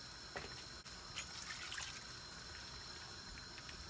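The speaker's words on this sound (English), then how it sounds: "So I'll be adding some more water." Water pours steadily into a cooking pot of stock with bones and vegetable stock, a faint continuous trickle and splash with no talking.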